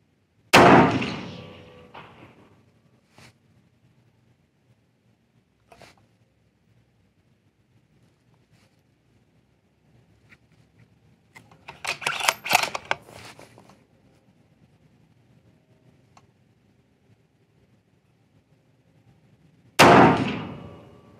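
Rifle shots ring out while sighting in a new rifle, two sharp loud cracks well apart, with quiet handling noises and a burst of clattering between them outdoors.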